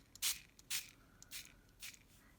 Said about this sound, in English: I'm going to take this mister, and it's just a mini spray bottle